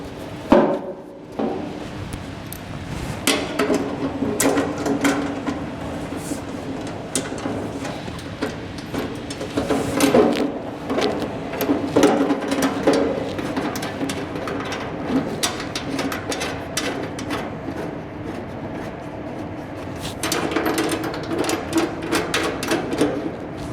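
Metal parts clank and tap as a side plate and safety guards are refitted on a Chapman Machinery TF350, brief knocks and rattles close by over a steady background hum, with no talking.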